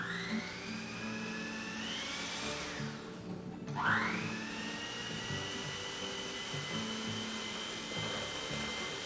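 Electric mixer whipping cream with water-chilled setup, a steady whining motor hum whose pitch dips and swoops as it works the cream, close and continuous with no talking.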